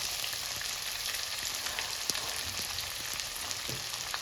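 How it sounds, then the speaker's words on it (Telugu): Chopped onions fry steadily in a pan for Uggani Bajji, a soft continuous sizzle with a few faint clicks and taps, close and alone with no talking. "ఈ ఆనియన్స్ని కూడా చక్కగా వేయించుకోవాలి."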